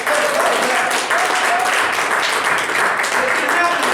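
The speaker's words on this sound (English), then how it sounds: "So Lucky, Clay, and Zeph, give a round of applause, our three players." Live audience applause for three improv comedy players, a loud, dense wash of clapping that holds steady from start to finish, with some cheering voices mixed in.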